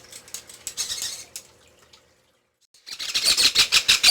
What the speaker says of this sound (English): The people, our friends on YouTube want to see the baby birds.